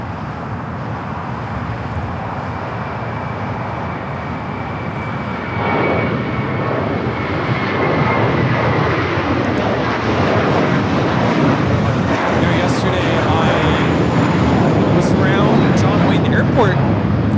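An airliner pushing back at LAX, with a steady, loud jet engine whine and rumble that swells slightly midway and holds, while a voice talks over it.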